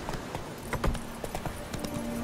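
A horse's hooves clip-clop in The Witcher 3, a close, uneven series of sharp knocks at a walking pace over a soft ambient bed.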